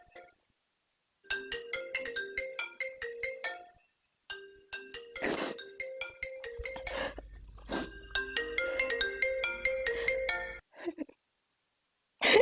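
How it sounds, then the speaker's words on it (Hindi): A bright melodic phone ringtone plays in repeating phrases, pauses briefly, then rings again with a couple of louder bumps and clicks mixed in. "तुम फोन क्यों नहीं उठा रही थी? कब से तुम्हें कॉल कर रहा हूँ।"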